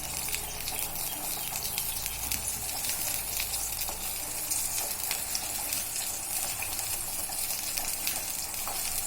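Water for vermicelli heats in a pot, giving a dense, even hiss and bubbling roar that stays steady and close throughout without any speech.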